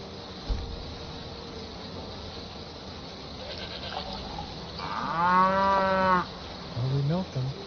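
A cow moos in Skyrim, one drawn-out bellowing call rising out of ambient game noise and holding for over a second, followed by a few shorter grunting sounds as it ends.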